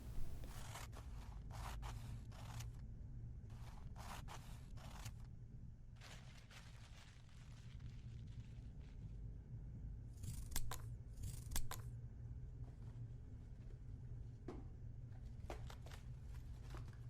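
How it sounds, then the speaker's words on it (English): Scissors snip away melton cloth at the outer edge of a bespoke jacket collar, a series of short crisp cuts and rustles in quick clusters over a steady low hum, close and fairly quiet. "I want to trim some of the melton away from the edge"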